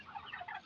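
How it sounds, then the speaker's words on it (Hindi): A turkey on a farm gobbles once in a short, faint burst of rapid warbling notes. "टर्की बर्ड्स भी हैं,"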